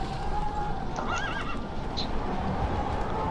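A horse in Minecraft Bedrock whinnies once over a steady background bed, with clip-clop hoofbeats and ambient noise throughout.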